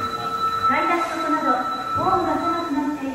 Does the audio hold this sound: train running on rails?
yes